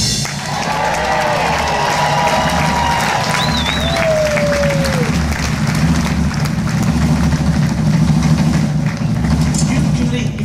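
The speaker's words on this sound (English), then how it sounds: "you had better clap and scream like you properly mean it" Applause and cheering from a live audience, a continuous loud roar of clapping and crowd noise with a few whistling shouts rising above it, lasting the whole stretch.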